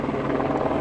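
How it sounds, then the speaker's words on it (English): A helicopter flies overhead, its rotor producing a steady, throbbing low drone at fairly loud volume throughout, with no talking. "There's more choppers off in the distance."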